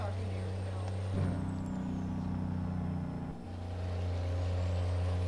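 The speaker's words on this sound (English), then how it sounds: "That's about the only truck that I have that's modified, or any of my trucks, that has that good of a Jake brake. Good sounding Jake brake." A modified truck's Jake brake in American Truck Simulator, a steady low engine drone with a rougher, stronger braking section in the middle, heard near and alone.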